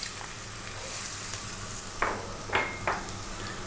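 Ginger and whole star anise sizzle in hot oil over high heat, a steady close crackle broken by three sharp bursts of spatter and stirring, with no talk.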